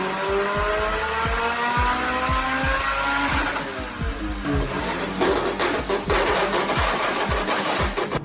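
Turbocharged Honda Civic EK hatchback driving hard, its engine revving through rising and falling pitch sweeps with repeated sharp gearshift or pop bursts, close and loud throughout with no talk.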